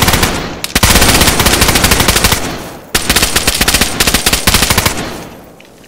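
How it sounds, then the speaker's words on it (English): Rapid automatic gunfire in the video game DayZ, loud and close, with long bursts of repeated shots broken by a short pause and trailing off at the end. "I hear that gunfire."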